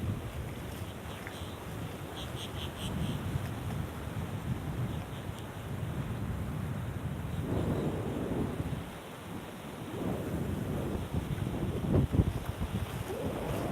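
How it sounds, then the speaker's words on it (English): Wind and waves at a beach near Myrtle Beach, steady rushing wind buffeting the microphone over a continuous wash of surf, with a few louder gusts and breaking waves. "So the wind moves the water moves the sand"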